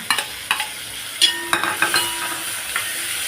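Onion and tomato frying in hot oil for a Maharashtrian tempering, a soft steady sizzle broken by several light clinks and scrapes of a spoon stirring the pan, close and with no speech.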